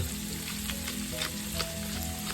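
Pork blood stew with tomatoes sizzling in a pan while being stirred, a steady close frying hiss with light scraping strokes throughout.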